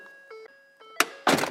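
A Ford F150 door slams shut with a single heavy, close thunk, followed by a broad rush of sound, after a faint chime tone.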